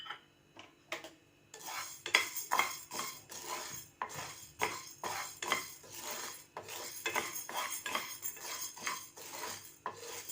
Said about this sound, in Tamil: ஒரு pan வச்சு அதுல கொஞ்சம் உளுந்து போட்டு நம்ம வறுத்து எடுத்துக்கலாம்.